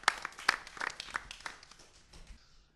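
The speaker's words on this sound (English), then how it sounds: "Can we have a small round of applause for the first finalist?" A small scattered round of applause for a pub quiz finalist, a few people clapping unevenly and fairly quietly for a couple of seconds, then fading out.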